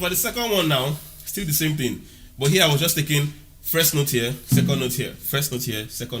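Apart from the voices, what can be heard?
No everyday noises stand out.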